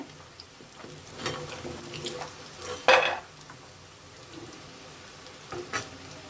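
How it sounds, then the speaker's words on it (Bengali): Rice flour jhinuk pitha fry gently in oil with a faint, steady sizzle and a sharp clatter of utensils partway through. "বাকি পিঠাগুলো আস্তে আস্তে এভাবে ভেজে নেব"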